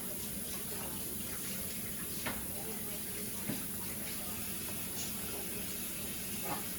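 Butter is washed off hands with dish detergent at a kitchen sink, with a faint, steady run of tap water and small splashes and rubbing throughout, and a voice speaks over it.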